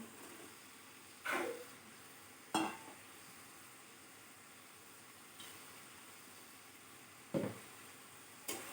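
Eggs fry with onions in a pan under a quiet, steady sizzle, broken by about five sharp clacks of a spatula stirring against the pan.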